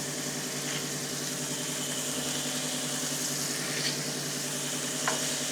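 Burger patties frying salt side down in a hot pan with oil and a little butter, a continuous close sizzle over a low steady hum, with a couple of faint clicks.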